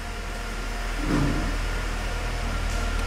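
A Ford Mustang Coyote V8 engine idles steadily and close by, a low continuous rumble with a slight swell partway through.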